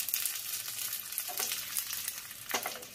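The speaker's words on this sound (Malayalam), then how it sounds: "ഇതിലേക്ക് കറിവേപ്പില ഇട്ട് കൊടുക്കാം." Curry leaves sizzle and crackle in hot oil on a switched-off stove, a bright continuous fizz with a few louder spitting bursts, close and alone.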